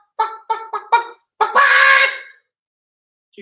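A person imitates a hen's egg-laying cackle: several short clipped clucks followed by a longer, drawn-out squawk, close and loud, then silence.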